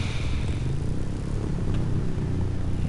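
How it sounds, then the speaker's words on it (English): Motorcycle engine in the video game The Crew 2, a steady rumbling drone with a slight rise and fall in pitch, continuous and fairly loud with no talk over it. "that sounds really cool and sounds like a motorcycle"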